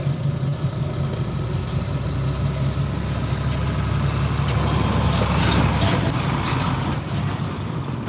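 A John Deere garden tractor engine drones steadily at a tractor pull in Ohio, pulling back the sled, a loud continuous rumble holding level with a slight swell near the end, no talk.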